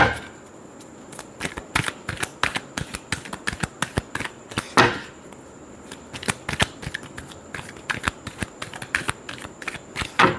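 Tarot cards being shuffled by hand during a reading, rapid crisp riffling and snapping bursts in irregular clusters, close and fairly loud, with brief pauses between runs and no talking.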